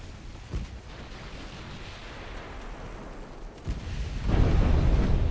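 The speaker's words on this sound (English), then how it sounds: "I hit him with my 5-inch gun." A 5-inch naval gun shell strikes an enemy ship in the naval warfare game Ultimate Admiral: Dreadnoughts, with a brief thump early on, a steady rumbling bed, then a loud heavy boom that swells and sustains near the end.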